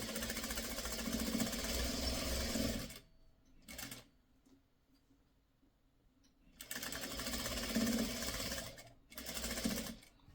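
A sewing machine stitches quilt pieces from pre-cut fabric in two long, loud runs of rapid mechanical whirring, separated by a quiet pause and a short burst.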